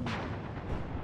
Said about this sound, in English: The ATGM launch its shot. Somebody gets a hit.